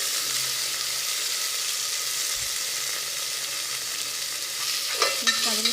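Chopped tomato frying over low flame in a pan for okra gojju, a steady close sizzle throughout with a few soft stirring scrapes and clinks near the end.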